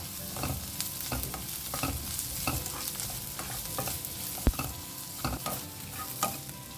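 Cubed capsicum stir-fried over a high flame for a chicken sausage chilli, with a continuous hiss of hot oil and repeated clacking, scraping strokes of a spatula in a quick, uneven rhythm, close and free of speech.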